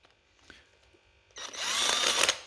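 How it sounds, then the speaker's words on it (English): A power drill bores holes in a modified top ball joint during a 1975 Corvette Stingray front-suspension restoration, starting after a quiet moment and whining loudly and steadily up close. "Now it's time to drill the holes."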